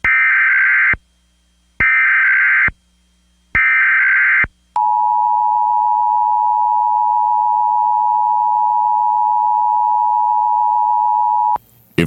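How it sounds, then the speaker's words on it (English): A radio Emergency Alert System test sounds as three harsh buzzing data bursts separated by gaps, then one long, steady, piercing attention tone held for several seconds, loud and alone. "This is a test of the emergency alert system."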